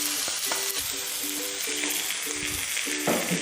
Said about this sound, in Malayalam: ഈ വറ്റൽമുളക് ഇപ്പം നല്ലപോലെ ചൂടായി. ഇനി ടൊമാറ്റോ ഇടാം.